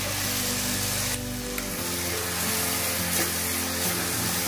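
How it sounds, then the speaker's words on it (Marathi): Tomato paste ground in a mixer is tipped into a pan of fried egg masala, bringing a brief wet splash and then a steady loud sizzle of frying over a low hum, with no talking. "मिक्सरला टोमॅटोची पेस्ट करून घेतलेली ती घालते।"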